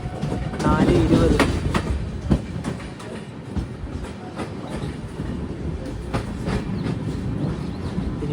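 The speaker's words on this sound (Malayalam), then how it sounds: "ധോൽപൂരിൽ നിന്ന് ട്രെയിൻ എടുത്തു" Himsagar Express pulls out of Dholpur station in Rajasthan, wheels clicking in a steady clickety-clack under a continuous rumble heard from inside the carriage, with people talking nearby.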